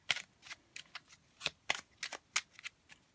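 Tarot cards are shuffled and pulled, producing a quick run of crisp, close card flicks and snaps in an uneven rhythm, quiet and without talk.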